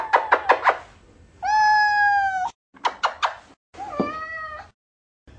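A cat yowls and meows in annoyance: a quick stutter of short cries, a long drawn-out wail, then more choppy meows and another rising yowl, close and loud with brief silences between.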